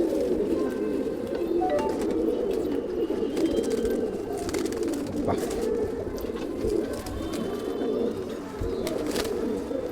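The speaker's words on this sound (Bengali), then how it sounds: "এটা হচ্ছে পরবর্তী পায়রা" Pigeons coo repeatedly in low, throaty calls, close and continuous, with faint clicks and distant voices in the background.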